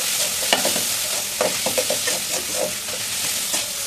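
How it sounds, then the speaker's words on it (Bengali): Rohu fish pieces stirred and fried with spices in a pan: a steady, hissing sizzle fills the background while soft spoon scrapes and light knocks land irregularly, close up. "ভালো করে আমি মাছগুলো ভালোভাবে মশলার সাথে মিশিয়ে নেবো।"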